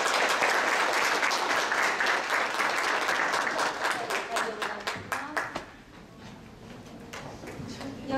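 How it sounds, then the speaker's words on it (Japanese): An audience at a team presentation contest applauds, dense loud clapping that thins into scattered individual claps and fades toward the end. "それではもう一度大きな拍手をお願いします。"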